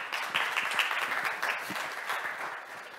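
Audience applause at a business showcase event in Montreal, a moderate, fairly soft wash of clapping from a seated crowd that holds steady for a few seconds before easing, with no talk.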